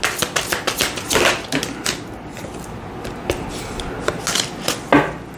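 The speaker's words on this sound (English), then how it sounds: "I want you to be able to see the shuffling I'm doing" Tarot cards being shuffled by hand, a run of quick crisp riffling snaps and soft slaps up close, with brief pauses between bursts.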